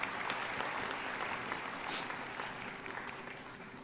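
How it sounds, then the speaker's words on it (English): A large audience at a university convocation ceremony applauds steadily, distant and fairly faint, a continuous even wash of clapping that slowly fades. "Can we have a round of applause, please?"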